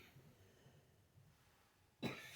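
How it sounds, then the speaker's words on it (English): A single sharp cough bursts out near the end after quiet breathing and faint background noise, close and fairly loud. "here comes that cough creeping back in again"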